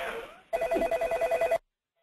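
A telephone rings during an online meeting, giving one clear burst of rapid electronic trilling that lasts about a second. It follows a brief stretch of faint talk, then cuts to silence.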